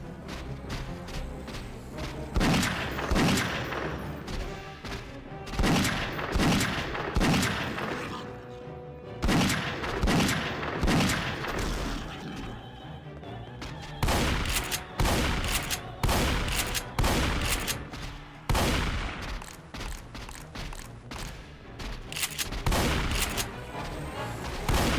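Dense gunfire from the Resident Evil 2: Source mod for Half-Life 2, with loud, rapid shot bursts that come in repeated volleys and brief pauses across the whole stretch.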